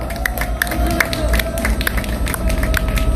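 Outdoor rally crowd applauding and cheering, many hands clapping in a loose rhythm with scattered shouts and a sustained tonal hum, loud and close throughout.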